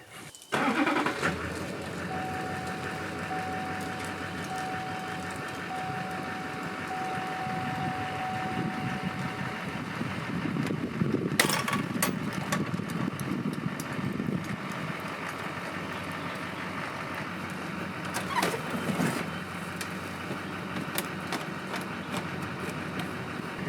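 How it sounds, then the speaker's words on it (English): A truck engine turns over and settles into a steady rumbling idle, with a long, even drone and occasional clunks and rattles as it moves off, fairly close and without speech. "We're going to move the truck out away from it."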